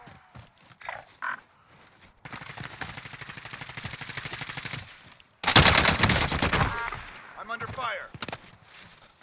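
Gunfire in Call of Duty Warzone, a rattling machine-gun burst followed by a louder dense volley of shots, with someone talking faintly in between.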